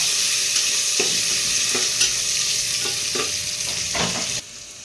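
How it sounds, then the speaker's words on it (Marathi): Chopped onion stir-fried in masala in a pan, a steady loud sizzle broken by regular scraping strokes of the spatula about once a second, close by, with no voices. "त्यामध्ये आपण एक कांदा घालून घ्यायचा आहे व्यवस्थित परतवून घेऊया"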